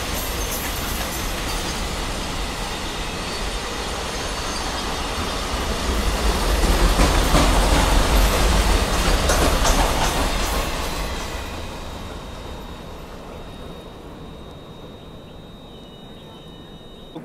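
The Rajasthan Humsafar Express, 22985, pulls into Ringas Junction with a steady rail rumble and wheel clatter that swells to a peak midway, then eases into a quieter hum with a faint squeal as it slows.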